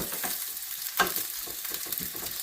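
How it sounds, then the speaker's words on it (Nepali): Onions and cumin frying in oil for a protein pulao on a large stove, a steady close sizzle with scraping stirring strokes through it and a sharper clatter near the middle; no one speaks. "तेल हालियो जिरा हालियो प्याज हालियो अब भुट्दैछु"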